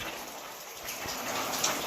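Rain falls steadily in a village, a soft, even hiss of drops spread across the whole stretch with no voices, moderately faint and continuous throughout.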